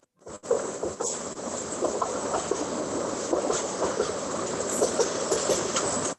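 A train passes at a moderate distance as a continuous broadband rumble with faint rhythmic clatter, holding steady for several seconds before cutting off.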